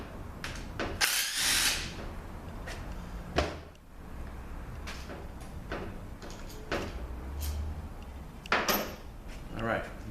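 A power tool works bolts on a Ford power transfer unit (PTU) in short bursts of whirring and rattling. Clanks of parts and tools sound between the bursts, and a person talks at times.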